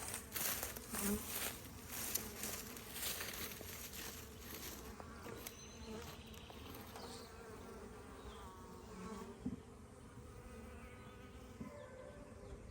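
Steady drone of many honey bees buzzing nearby during installation of nucs, a dense humming swarm with faint rustling mixed in, fairly quiet and continuous throughout.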